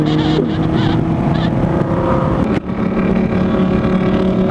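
Motorcycles roar close by in a loud, continuous engine drone during a two-wheel Tuesday drive-by, the revving rising and falling as they pass, with a brief dip partway through.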